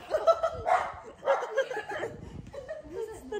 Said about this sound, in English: Dog that scared me, not the movie.